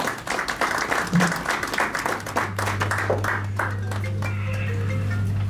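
A crowd applauds to welcome a speaker at a Change360 Network event, a burst of clapping lasting a few seconds before fading out, leaving a steady low electrical hum.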